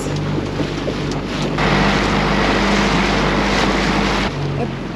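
A lobster boat motor drones low and steady beneath gusting wind noise, with a burst of louder rumble midway through.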